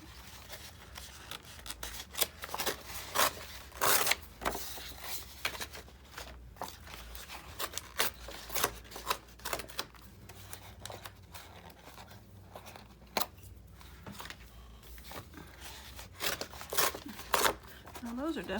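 Scissors snipping pages from an old book for neutral collage boards, with repeated crisp cuts, paper rustling and crinkling close by throughout.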